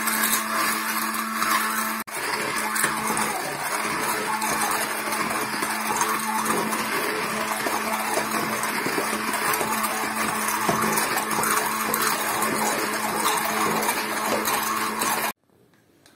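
A blender purees soft boiled pumpkin in one loud, steady whir that runs without a break for about fifteen seconds, dips briefly near the start, then stops abruptly.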